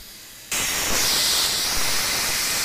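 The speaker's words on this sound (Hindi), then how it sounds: "प्रेशर कुकर में 2 सीटी आने देंगे।" A pressure cooker cooking sprouts khichdi suddenly lets out its whistle, a loud, close, steady hiss of escaping steam that starts abruptly and keeps going after a quieter stretch.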